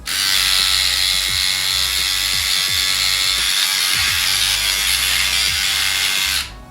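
A NOOA 3-in-1 electric nose hair trimmer runs with a loud, steady high-pitched buzzing whir, switching off abruptly at the end, with no talking.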